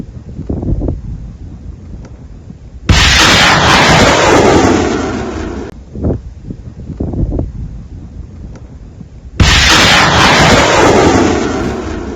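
Ukrainian HIMARS rocket launches: two sudden loud broadband roaring blasts, each sustained for a few seconds, separated by quieter wind-buffeted outdoor noise.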